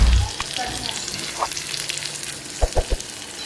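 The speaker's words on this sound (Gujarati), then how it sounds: "એમાં લીલા મરચાં, ડુંગળી, ટામેટાં, કઢી પત્તા, રઈ નાખી દીધું છે." A tempering of mustard seeds, curry leaves, green chilies, onion and tomato fries in a pan with a soft, steady sizzle and a few louder knocks of a spoon toward the end.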